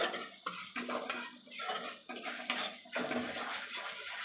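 Onions with ginger-garlic paste frying in oil for a fish curry, with repeated clinks and scrapes of a spoon stirring against the pan over a soft sizzle, close and steady.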